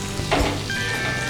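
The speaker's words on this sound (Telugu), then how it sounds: "బ్రెడ్ని టూ సైడ్స్ కొంచెం ఫ్రై చేసుకోవాలి" Bread frying in melted butter on a pan, a brief close sizzle with a short clatter partway through, loud and steady, no voices.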